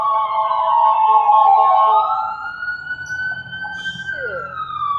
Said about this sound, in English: And there's some sirens.